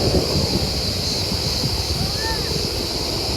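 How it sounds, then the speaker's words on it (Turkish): Steady wind roaring and buffeting outdoors during a forest fire on a 40-degree day, a constant broadband rush with faint distant engine tones underneath. "hava rüzgarlı oldu"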